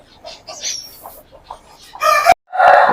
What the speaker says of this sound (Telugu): హెవీ బాడీ పుంజు